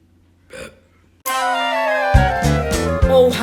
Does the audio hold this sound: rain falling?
no